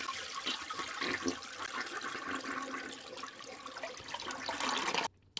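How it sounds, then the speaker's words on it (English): A toilet flushes in one steady rushing gush of water lasting several seconds, close and moderately quiet, before cutting off abruptly. "The sound of a toilet flushing."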